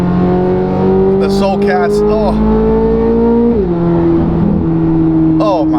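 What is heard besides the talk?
C8 Corvette Z06 engine revving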